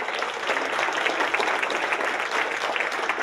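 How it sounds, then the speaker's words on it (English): Audience at a county board candidate debate applauds steadily throughout, a dense, even clatter of many hands with no break. "Please give them a round of applause"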